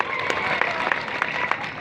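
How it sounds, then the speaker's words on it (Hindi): Loud applause from an audience at a public program in Duliajan, a steady crowd of clapping lasting under two seconds with voices mixed in. "जोरदार तालियां"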